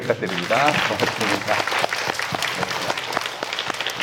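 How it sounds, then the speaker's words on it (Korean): Congregation applauding a church choir at a Mass honouring martyrs, with dense, sharp, fairly close claps running steadily under a speaker's voice. "박수 한번 크게"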